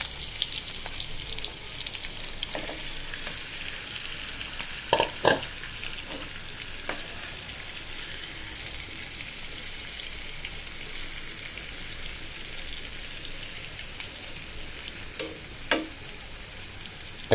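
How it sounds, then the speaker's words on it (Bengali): Spice-marinated tilapia pieces sizzle in hot oil with onion and green chili, a continuous bubbling fry broken by occasional utensil clinks and stirring knocks. "এবার মশলা মেখে রাখা মাছগুলো দিয়ে দিচ্ছি"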